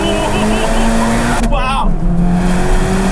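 A quick car pulls hard toward redline, heard from the back seat as a loud, steady engine roar rising with speed, while a passenger briefly exclaims over it.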